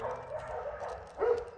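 A neighbor's dogs bark and yip from a short distance, a brief cluster of moderate barks with one louder yelp near the end, with no talk.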